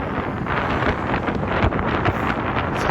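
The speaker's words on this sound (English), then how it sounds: "It's a little windy." Wind blows into a microphone outdoors, a loud, continuous buffeting rumble with gusty surges and no speech.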